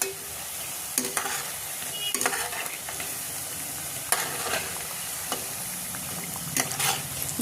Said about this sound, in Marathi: आता हे वाटा भजे जे आहे ते व्यवस्थित असे तळून घेते